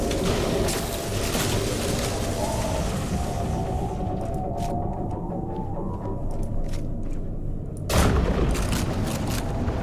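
Heavy, continuous gunfire and booming blasts rumble through a survival game, loud and dense, easing off briefly midway before another loud burst erupts near the end.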